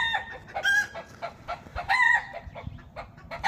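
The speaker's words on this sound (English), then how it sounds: "Oh, these chickens can be noisy." Chickens cluck and cackle in a backyard organic vegetable garden in South Africa, close and noisy, with a rooster's crow rising among the bursts of calls in uneven clusters.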